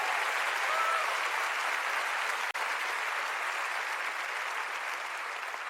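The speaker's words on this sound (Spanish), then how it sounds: "Dale fuerte el aplauso al Señor y créele." A church congregation claps steadily in sustained, dense applause that holds at an even level throughout, with no pauses and no voices standing out.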